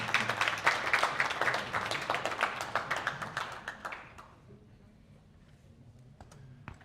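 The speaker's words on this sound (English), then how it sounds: "Please, a round of applause for our special guest." A small audience at a student development forum claps for a special guest in a brisk burst of close hand claps that fades out after about four seconds, leaving quiet room tone with a few stray taps.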